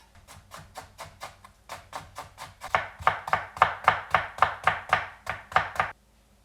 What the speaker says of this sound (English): First, let's cut our cucumber.